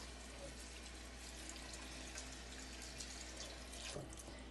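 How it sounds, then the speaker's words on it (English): Kitchen tap running steadily into a pot of rice being prepared as Jollof rice, a constant close hiss of flowing water with a slight change in the pour near the end. "Add some water."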